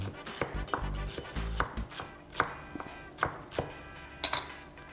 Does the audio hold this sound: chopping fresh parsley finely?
yes